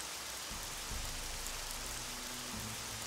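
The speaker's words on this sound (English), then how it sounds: "Oh, it's raining." Rain falls in the video game Jagged Alliance 2 as a steady, soft hiss of patter, with faint low thuds mixed in and no voices.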